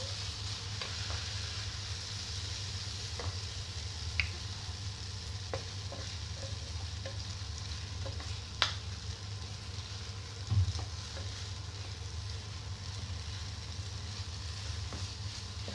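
Noodles frying in a pan, a low steady sizzle with a few soft clicks and knocks from stirring, fairly faint and without voices.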